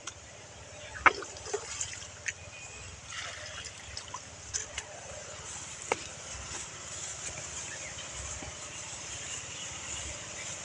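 Water from a river scooped with a gallon-sized scoop and poured out for watering, with scattered drips and splashes over a steady wash of running water.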